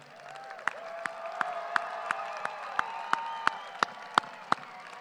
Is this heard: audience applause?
yes